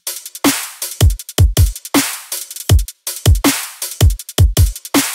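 A programmed electronic drum beat for a future bass track thumps out a steady pattern of punchy kicks and crisp snares, repeating in tight rhythm, alone without voices.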